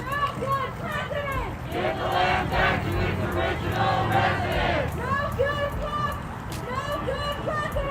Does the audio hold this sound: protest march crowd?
yes